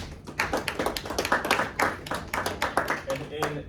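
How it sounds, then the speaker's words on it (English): A group claps together in a quick burst of applause, sharp overlapping claps filling the short moment, with voices mixed in. "Clap it up for Will."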